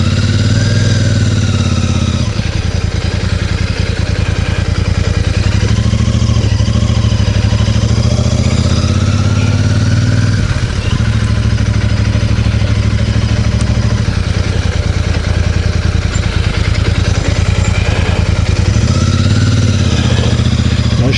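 Royal Enfield Super Meteor 650 motorcycle ridden at steady speed, a continuous loud low engine drone with some rumbling variation and wind noise, no talking.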